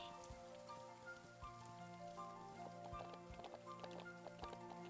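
Steady rain patters continuously in the video game Ranch of Rivershine over a soft, layered background of ambient music and light game sounds, with faint clip-clop footsteps mixed in.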